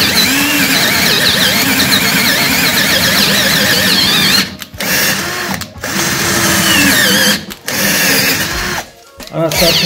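An electric drill whirs loudly and steadily, pausing briefly a few times before spinning up again, with a gritty, grinding edge as it bores into the key cylinder of a bike lock held in a vise.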